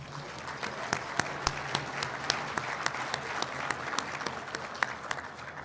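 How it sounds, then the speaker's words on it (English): A gala audience at the MAEOPP 2014 event breaks into sustained applause, with dense, steady clapping from a sizable crowd and a few sharp individual claps standing out over the whole stretch. "So give yourself a round of applause."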